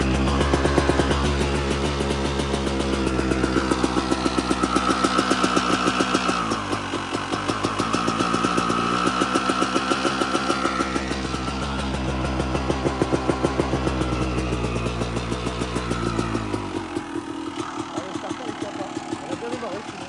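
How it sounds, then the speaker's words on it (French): Honda CR 250 two-stroke motorcycle engine idling steadily after a kick start, a loud close rhythmic putter with small revs that settles lower near the end. "Donc là, je vais démarrer la moto."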